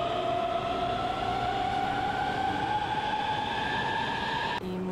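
A train rumbles steadily along the rails with a sustained tonal whine on top, a continuous ride heard from inside on the way to Malmo, Sweden, ending with a slight shift.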